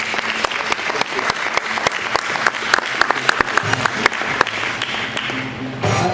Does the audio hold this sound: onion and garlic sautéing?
no